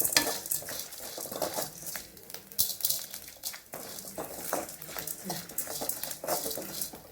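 Curry leaves crisping in hot oil in a pan for moong dal sambar, a steady close sizzle broken by frequent scraping stirs and light utensil clinks, with no talking.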